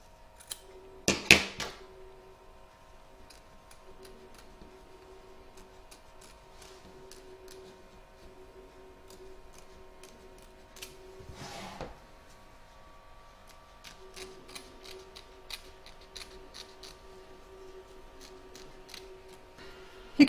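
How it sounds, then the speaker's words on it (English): Scissors snip excess fabric from a 4th of July in-the-hoop embroidery coaster, with a few quick clustered cuts and scattered faint clicks against a quiet room background. "You're now going to trim up your excess fabric both front and back"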